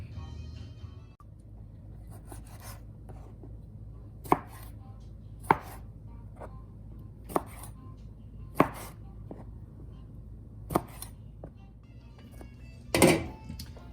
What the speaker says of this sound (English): I'm gonna cut up some tomatoes